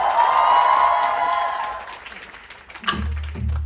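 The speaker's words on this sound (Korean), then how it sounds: "뜨거운 박수 부탁드려요" Audience applause at a fan meeting with a pansori guest performer, a broad crowd clapping wash that fades after a couple of seconds, followed by a few low thuds and brief movement.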